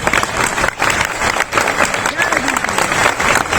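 Audience at a spiritual discourse in Jabalpur applauding, a loud dense burst of clapping close by, continuing steadily with crowd noise.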